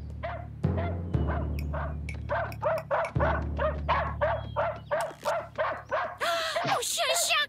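A cartoon dog barks in a rapid run of sharp, loud yaps, about a dozen in a row, closing with higher yelps and whines.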